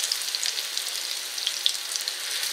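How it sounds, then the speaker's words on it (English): Squash patties fry in a pan with a steady high sizzle and scattered small pops and crackles, close and moderately loud, with no talk. "they cook rather quickly"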